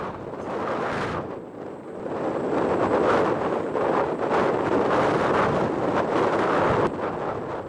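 Gusty wind buffets and roars across the microphone, swelling and easing in uneven blasts throughout.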